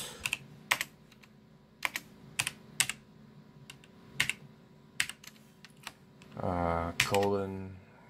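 Typing on a computer keyboard while entering a Firefox settings address; a steady run of crisp, close keystrokes comes at irregular intervals, followed near the end by a voice talking over them.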